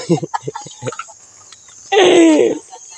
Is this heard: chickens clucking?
yes